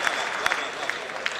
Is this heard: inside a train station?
no